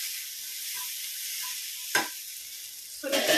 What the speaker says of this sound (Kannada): ಆಮೇಲೆ ಸ್ವಲ್ಪ ಟೊಮೆಟೊ ಸಾಸ್ ಹಾಕೊಂಡು ನೀಟಾಗಿ ಈ ಥರ ಫ್ರೈ ಮಾಡ್ಕೊಳ್ಳಿ